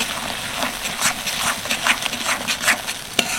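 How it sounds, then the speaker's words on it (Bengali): Spice paste and coconut paste stirred and sautéed in a pan, with a steady sizzle broken by scraping strokes of a spoon, ending in one sharp knock near the end. "আর একবার ভালো করে কষিয়ে নেব।"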